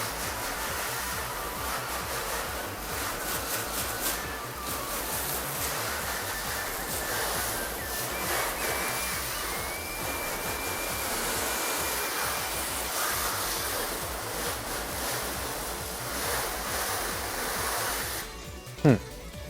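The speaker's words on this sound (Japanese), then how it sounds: "そしたら洗い流します" Water from a pressure washer or hose rinses foamy wax car shampoo off a car, a loud steady broadband hiss and spray running throughout with small fluctuations, ending in a brief knock.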